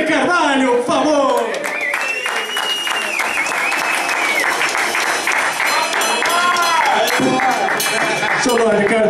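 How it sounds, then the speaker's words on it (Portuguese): An audience applauds steadily for several seconds with some cheering, while a voice speaks over the clapping. "nós vamos querer uma salva de palmas"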